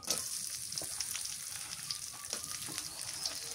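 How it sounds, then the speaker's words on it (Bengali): Chilies frying in mustard oil in a wok, a soft, steady sizzle with light crackles and a few faint clinks, fairly quiet and without talk. "মরিচ দিয়ে দিই"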